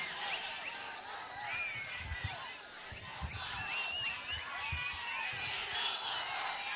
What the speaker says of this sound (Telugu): మీ అరుపులు, మీ కేకలు